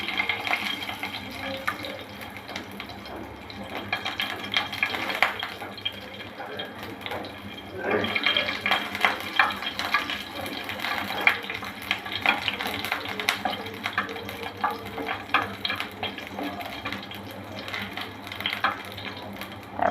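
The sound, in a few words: garlic cloves frying in oil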